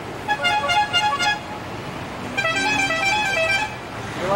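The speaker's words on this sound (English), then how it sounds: "They like to honk the horns." Buses honk their horns in downtown Rio in two separate blasts, each about a second long, with a brief quiet gap between them. The horns are loud and fairly close, over a low rumble of street traffic.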